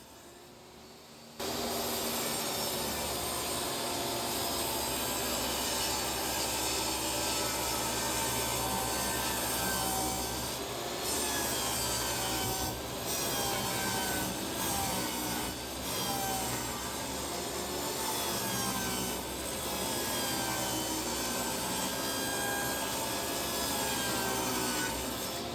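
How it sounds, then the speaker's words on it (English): A table saw rips wood trim boards in one long continuous cut, with a loud, steady whine and rasp of the blade through wood for over twenty seconds. "right now we're just going to rip everything with the table saw"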